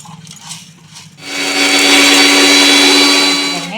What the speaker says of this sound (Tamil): வறுத்ததை வந்து பொடி பண்ணிக்குவோம்